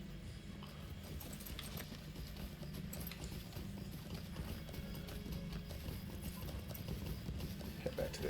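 Horse hooves clip-clopping steadily in a Middle Earth video game, a continuous rapid patter of hoofbeats at even volume throughout, over a low rumbling ambient bed.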